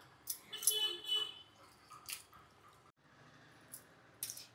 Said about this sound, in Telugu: కానీ వెజిటబుల్స్ శుభ్రంగా కడిగేసుకోవాలండి